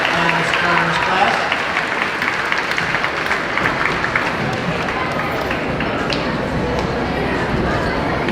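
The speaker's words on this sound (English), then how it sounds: "Let's give another round of applause" A school audience applauds at a 2022 fifth-grade moving-up ceremony, giving steady, dense clapping that holds for several seconds with crowd noise and a few voices mixed in.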